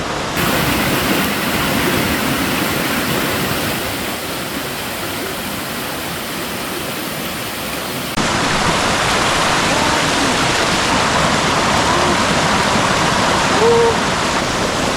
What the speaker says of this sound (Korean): 물소리가 너무 크게 들려서 한번 가볼게요